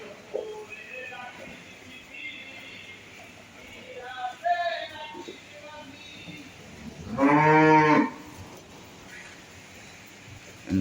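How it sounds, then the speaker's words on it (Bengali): Friesian and Jersey dairy cows on a farm, with one loud, drawn-out moo standing out near the end over faint background noise and scattered lowing. "এগুলো হচ্ছে অস্ট্রেলিয়ার ফ্রিজিয়াম, জার্সি, সব জাতের গাভী আছে এই জায়গায়।"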